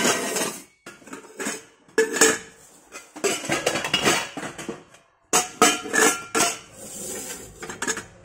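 A heavy metal cooking pot is handled in a clearance sale, with repeated clanks, knocks and scrapes of metal against metal, loud and close, in irregular bursts and no talking.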